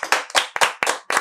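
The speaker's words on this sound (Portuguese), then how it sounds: "Vamos uma salva de palmas." Podcast hosts give a short round of applause, five distinct, fairly close hand claps in an uneven rhythm, with no talk over them.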